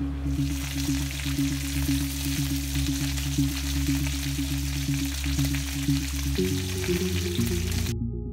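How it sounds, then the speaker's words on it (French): A duck confit cassoulet simmers gently, giving a soft continuous sizzle and bubble that runs evenly throughout, with a low steady hum beneath it and no talking. "Laissez cuire à petit bouillon pendant environ 30 minutes"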